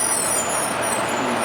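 A city bus in traffic in Loveland, Ohio gives a steady broadband engine and road rumble with a hiss of air release, close and continuous, with no talk.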